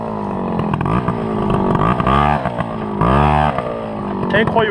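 An MBK 51 moped's small two-stroke engine runs after starting, revving and settling in a steady buzzing drone, loud and close, with a voice speaking over it.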